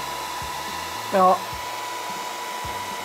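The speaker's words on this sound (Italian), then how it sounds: "Spero riusciate a sentire col rumore del phon." A hair dryer runs as a steady whirring drone throughout, close and fairly loud, while a person speaks briefly over it.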